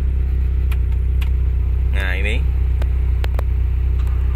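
A 1974 Toyota Corolla KE20 engine idles with a steady, smooth low drone throughout, under someone talking close by.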